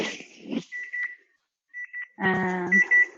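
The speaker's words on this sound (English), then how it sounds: "my timer went off" A kitchen timer goes off with a run of electronic beeping and a sustained tonal ring, loud and close, with brief talk before it.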